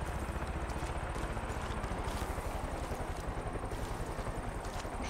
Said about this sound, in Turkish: O helikopter şey mi?